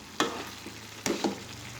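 Fried potatoes being stirred into a pot of sizzling beef semur stew, with a steady frying sizzle and a few distinct scraping stirs of a spoon against the pan, close and moderately loud.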